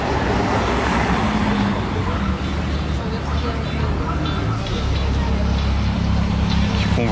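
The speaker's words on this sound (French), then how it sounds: "Alors là, ils viennent de monter cette Bugatti du parking." Bugatti car driving up out of a parking garage in Monaco, a steady low engine rumble mixed with broad street and traffic noise throughout.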